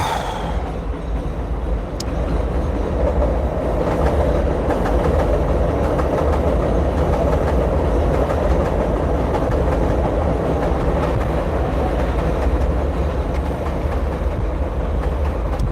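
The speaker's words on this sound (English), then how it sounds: "Ain't nothing like that New York City subway noise" A New York City subway train passes loud and close, a continuous heavy rumble with steady metallic clatter that holds at full strength throughout.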